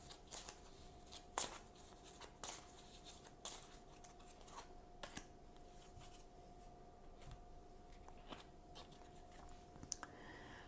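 A deck of tarot cards being shuffled by hand, a steady run of soft riffling clicks and slaps close by, with a few sharper snaps standing out, and no voices over it.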